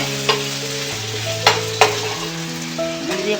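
Spices and food stirred together in a hot frying pan, a continuous sizzle broken by a few sharp utensil knocks against the pan, with a low steady hum behind it and no speech.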